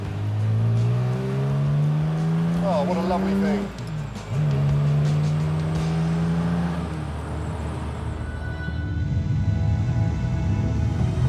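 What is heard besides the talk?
classic car engine accelerating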